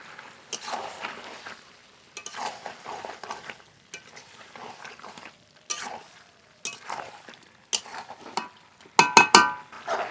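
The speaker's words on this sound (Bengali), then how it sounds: "আর একটু কষিয়ে নেব মাংস খুব ভালো করে কষিয়ে নিয়েছি" Chicken pieces being stir-fried with red chilli powder and slit green chillies in a pan, heard as intermittent bursts of spatula scraping and sizzling, with brief clinks near the end and no voices.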